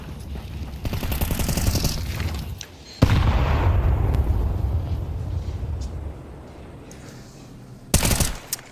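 Grenade blast in a Counter-Strike match, a loud boom around the three-second mark ringing out and decaying over several seconds, with bursts of rapid gunfire before it and a sharp shot near the end.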